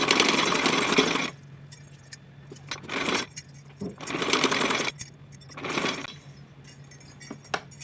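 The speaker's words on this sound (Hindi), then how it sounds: "पहले थोड़ी सी 1-2 सिलाई लगा लेते हैं, इसके बाद खींचना शुरू करते हैं" A sewing machine stitches the elastic edge of a small cotton dress in loud whirring bursts separated by short pauses, with light clicks and handling noises in between.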